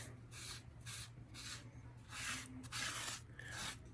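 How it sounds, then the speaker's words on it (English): Brush spreading gold paint over a concrete fountain, heard as a series of soft, rhythmic rubbing strokes, close and fairly quiet, with a low steady hum underneath. "I'll go all the way here to the middle, kind of brushing it over."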